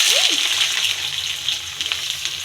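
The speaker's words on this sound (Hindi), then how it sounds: "तेल हमारा हो चुका है गर्म और उसमें डालेंगे प्याज। अब ये चटर चटर" Chopped onions hitting hot oil in a home kitchen, a bright, steady crackling sizzle that holds strong throughout, close and loud, with a few small clinks underneath and no speech.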